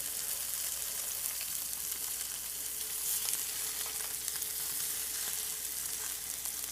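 Chicken browns in a hot Cuisinart stainless steel saucepan, seasoned with salt, pepper and Italian seasoning, giving a loud, steady, close sizzle that runs unbroken throughout.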